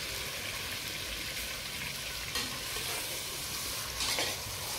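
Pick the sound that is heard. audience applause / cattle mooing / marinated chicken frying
marinated chicken frying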